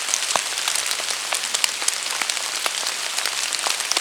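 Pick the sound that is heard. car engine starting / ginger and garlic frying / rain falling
rain falling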